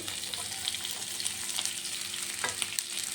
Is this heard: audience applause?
no